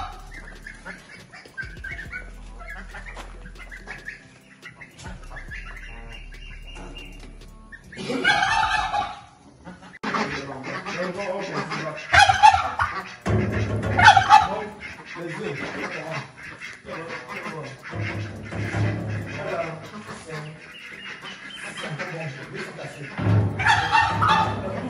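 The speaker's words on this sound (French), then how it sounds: "Ici, nous avons les oies." Several geese honk and cackle in loud bursts, some overlapping, with quieter stretches and background noise between calls.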